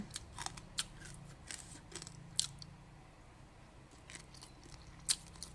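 Crisp Thai pork cracklings (khaep mu) being bitten and chewed up close, several sharp crunchy bites spaced through otherwise quiet chewing.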